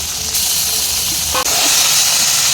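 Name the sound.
fish rubbed with salt and turmeric frying in mustard oil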